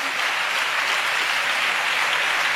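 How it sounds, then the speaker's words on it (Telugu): A church congregation clapping in praise, dense and continuous applause filling the space at an even, loud level from start to finish. "చప్పట్లు కొడుతూ దేవునికి స్తోత్రాలు చెప్దాం"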